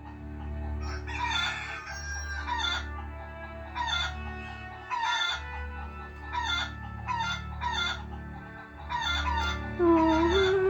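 Chickens in the online game zOMG! on a farm ranch, crowing and clucking in repeated bursts over a steady low game background hum, fairly loud and close with no talk.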